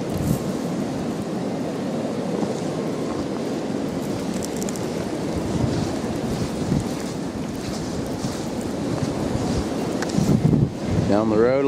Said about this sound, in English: And the wind blowing.